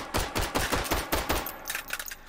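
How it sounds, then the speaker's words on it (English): A Beretta Jetfire 25 ACP pistol fired in H3VR, about eight sharp, close shots in a quick, slightly uneven rhythm, the later ones a bit lighter and more clustered. "let's see if we can do a recoil test with these tiny sights. 8 rounds of 25 ACP"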